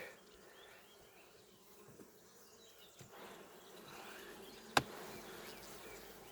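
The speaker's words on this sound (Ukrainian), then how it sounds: "Повно бджоли на крайній рамці" Faint, steady buzzing of honey bees at an open hive, close and continuous, with a sudden sharp click partway through.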